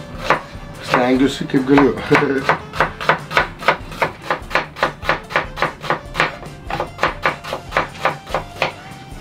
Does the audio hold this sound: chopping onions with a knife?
yes